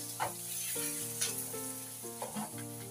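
Onions sizzle steadily in a hot pan for a Chinese yam and minced pork dish, with a few sharper bursts and stirring scrapes over a broad, even hiss; no talking.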